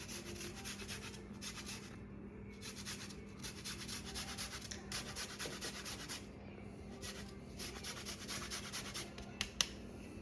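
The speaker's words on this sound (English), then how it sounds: "take a lime at the end and a microplane grater. And make sure you're rotating it so you're getting that green peel" A lime is zested on a microplane grater, with close, quiet rasping strokes in rhythmic bursts separated by brief pauses, alone without talk.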